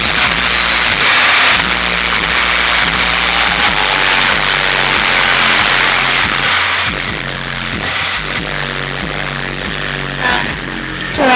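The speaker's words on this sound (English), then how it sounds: "Now rev it up." A Chevy Impala's engine hums with a pulsing low throb, the pitch surging and settling as it's revved, loud and close.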